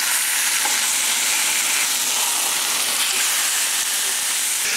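Chicken searing in a hot frying pan gives a loud, steady sizzle and hiss throughout, with faint crackles and no voices.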